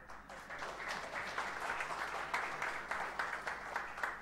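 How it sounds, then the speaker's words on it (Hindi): Faint, distant applause from an audience at a business seminar session on family business succession, heard as a soft, somewhat rhythmic patter of many hands clapping throughout. "तालियां"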